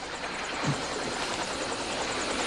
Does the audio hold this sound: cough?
no